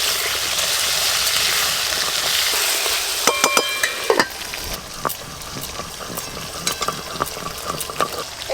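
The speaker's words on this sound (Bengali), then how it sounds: "সরষের তেল, লবণ, হলুদ, লবণ হলুদ মাখিয়ে আজকে আলুটা ভাজবো।" Potatoes coated in salt and turmeric fry in mustard oil, a loud continuous hiss of hot oil with a cluster of utensil clatters partway through and lighter stirring taps afterward.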